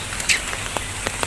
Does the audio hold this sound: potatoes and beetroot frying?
no